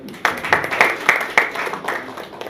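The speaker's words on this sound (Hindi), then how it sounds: "जोरदार तालियां हो जाए यार" Scattered hand claps from a small audience at a Hindi film press conference for comedian Sunil Pal's LOCKDOWN TO UNLOCK, a run of sharp individual claps up close, brief and uneven rather than a full ovation.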